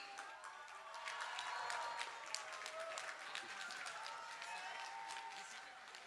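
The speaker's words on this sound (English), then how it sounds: "Everyone, huge round of applause for Mr. Rahul Gandhi ji." Audience applause at a diaspora event in New York for Rahul Gandhi, a steady, fairly faint wash of many hands clapping in a large hall, with occasional sharper claps standing out.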